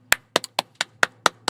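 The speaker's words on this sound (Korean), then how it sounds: "박수." A single person claps hands seven times in a quick, fairly even rhythm, each clap sharp and close, with a faint low hum underneath and no talking.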